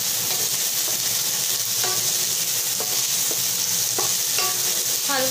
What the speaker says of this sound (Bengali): হালকা ভাজা মশলার সাথে এগুলো ভেজে নিচ্ছি, যেন একটু ভালো ফ্লেভার হয়।